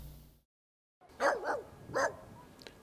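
Stray dogs bark outdoors, three or four sharp barks in quick succession at moderate distance after a brief silence, with no talk.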